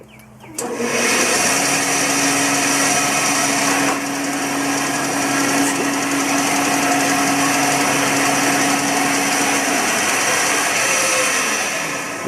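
A bandsaw runs steadily while cutting out a wooden template for a golf ball joint, a loud, close, continuous whine and hum that starts abruptly and holds for about twelve seconds, with no voices.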